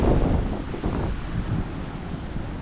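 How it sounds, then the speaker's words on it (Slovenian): Ocean waves surge and break along the Azores coast in a continuous, rushing roar, heavily buffeted by strong wind noise on the microphone, with no voices. "Nora igra valov."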